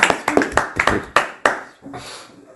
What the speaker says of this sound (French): Applaudissons pour Bouba.